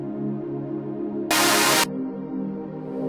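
A music track in production, shaped by distortion and an EQ cutting the lows, plays steady harmonic tones while a filter sweeps across it; midway a bright, loud burst of noisy high end surges in for about half a second, then the filtered music continues.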